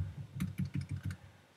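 Quick taps on an iOS on-screen keyboard produce a rapid run of about seven soft, close clicks, closely spaced, with no voice over them.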